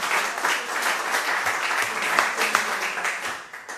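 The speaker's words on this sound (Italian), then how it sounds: "Grazie Sara, io farei un applauso." Press conference audience applauding, a continuous patter of many hands clapping at close-to-medium distance, with a few sharper claps standing out before it thins near the end.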